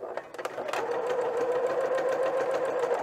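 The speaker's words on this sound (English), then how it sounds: "I'm going to do is sew along the edge sort of as straight as I can" A sewing machine stitches along the edge of fabric for a romper, starting with a few quick taps and then settling into a steady, close, rapid mechanical whirring hum.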